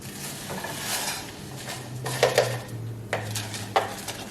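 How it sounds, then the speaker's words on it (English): Rice is laid into a crockpot with a little grapeseed oil for Cajun smothered shrimp and potatoes with sausage, giving a soft scraping stir and several clinks of utensil against the pot, close up and quiet. "we're gonna go ahead and lay in the rice"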